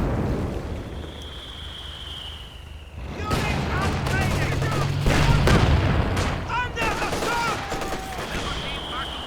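Gunfire rattles from a Company of Heroes 2 battle, including an MG-34 machine gun, bursts and booms layered over a rumbling soundscape, with someone talking over the action throughout.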